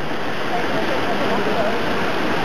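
Steady broadband rush of falling water from a public fountain adorned with statues of Neptune and Triton on horseback, continuous and fairly close with no break.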